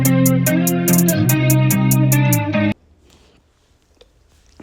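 Emo trap beat with melodic synth chords and small tight drum rolls of hi-hats in quick back-to-back triplets, loud and steady for about three seconds before cutting out to near silence.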